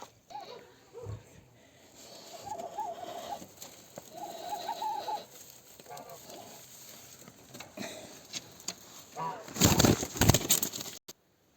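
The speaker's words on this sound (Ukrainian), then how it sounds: "наша винуватиця цього дійства, індичка. Зараз її будемо брати" A turkey hen is lifted by the wings, giving soft, repeated clucking and cooing calls close by, followed near the end by a loud, brief burst of wing flapping and scuffling.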